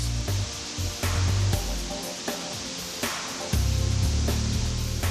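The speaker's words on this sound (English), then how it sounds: "Finally, I face Victoria Falls." Victoria Falls sends up a steady, loud, rushing roar of falling water and spray that never lets up, with low tonal hums running beneath it.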